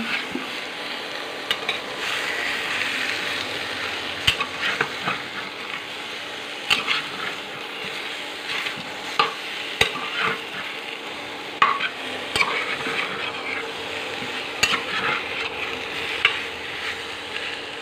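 Dry chicken meat stirred in a pan without oil for an oilless chicken dish, a soft continuous sizzle broken by repeated close scrapes and clinks of a spatula against the pan.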